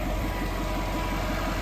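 A 2002 Jaguar XKR convertible with a supercharged engine idles close up, a steady rhythmic low pulsing throb under a constant hum.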